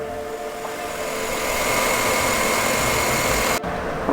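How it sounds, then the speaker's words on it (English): Chevrolet Avalanche LTZ engine with over 190,000 miles, idling as a steady, smooth hum heard close, with a sudden dropout near the end. "You don't hear a lot of noise from under the hood of this vehicle at all."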